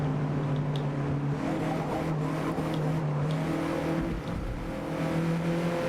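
Race car engines from the Forza Motorsport video game on Xbox Series X, a steady loud roar with revving and shifting pitch, occasional tire squeal, no talk.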